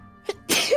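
A single sharp sneeze, close and loud, with a short intake of breath just before the burst.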